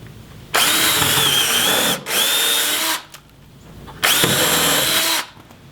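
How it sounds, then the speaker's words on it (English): Power drill boring into wood while building a tiny house compost toilet frame, three loud whirring bursts close by, the first two nearly back to back with a brief dip, then a pause before the last. "So first I'm going to drill the wood out here."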